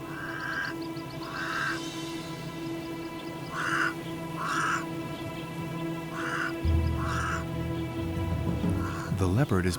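Crows caw near a savanna waterhole, giving loud, harsh calls in spaced pairs and bursts over a steady wild background, while a voice talks over them.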